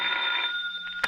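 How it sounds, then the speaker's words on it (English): An old-style telephone bell rings steadily in a radio drama scene, a loud, close, continuous metallic trill that fades near the end before a short click. "when the phone rang"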